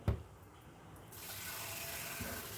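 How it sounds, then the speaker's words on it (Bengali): Tap water runs steadily and softly while raw chicken is rinsed in a sink. The flow thickens partway through, and a few light knocks and splashes sound close by. "জল পাল্টে পাল্টে খুব ভালো করে ধুয়ে নেব চার পাঁচবার জল পাল্টে চিকেন প্রথমে ধুয়ে নিতে হবে"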